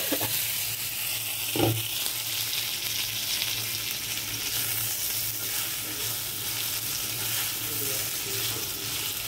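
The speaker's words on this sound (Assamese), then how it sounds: "এতিয়া ভেন্দি ভাজিখন বনাই আছোঁ" Okra (bhindi) fries in a pan, giving a steady, close sizzle throughout with a brief clatter near the start.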